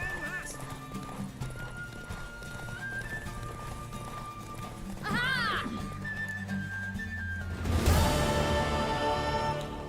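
A horse galloping in a race in the video game The Witcher 3: steady hoofbeats with a whinny partway through, layered under music and speech, growing louder toward the end.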